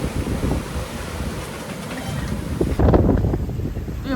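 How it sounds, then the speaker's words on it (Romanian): Sea waves and gusting wind rush around a sailing boat off Santa Maria di Leuca at the tip of Italy, a steady loud roar with a surge of water near the end; no one speaks. "Vin valurile după noi."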